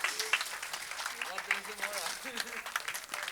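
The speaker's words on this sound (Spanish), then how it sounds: "Un aplauso para los actores." Audience applause for the actors after a staged dramatization, a steady wash of clapping running through the whole moment while voices talk over it.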